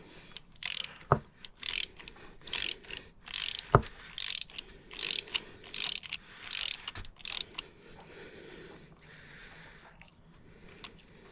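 Quick bursts of ratchet clicking from a ratchet working a spark plug loose on a Chevy Cobalt, near and fairly faint, in several short runs with a few sharp knocks between them, then quieter handling toward the end.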